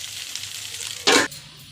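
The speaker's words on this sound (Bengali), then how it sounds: "মাটি আলুগুলোকে কেটে ধুয়ে পরিষ্কার করে গোটা জিরে আর তেজপাতা দিয়ে আমি লাল লাল করে ভেজে নিয়েছি" Pieces of mati aalu (yam) fry in oil with whole cumin and bay leaf. A short, loud burst of sizzling flares up against a quieter kitchen background, then quickly dies away.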